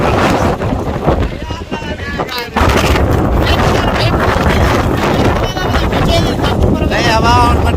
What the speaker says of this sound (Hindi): बहुत तेज हवा चल रही है, बड़ी जबरदस्त।